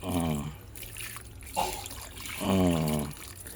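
Water is poured onto a freshly planted mint stem, giving a soft continuous trickle beneath a person talking at the start and end.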